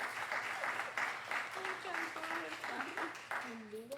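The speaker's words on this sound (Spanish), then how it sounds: "Un aplauso, hermanos" Congregation applause at a church Father's Day service, a steady wash of clapping lasting throughout, with a voice speaking over it.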